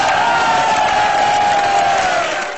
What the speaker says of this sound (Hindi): इस बुजुर्ग रक्कास के फरमाइशी रक्स ने हाजिरीन को तालियां बजाने पर मजबूर कर दिया।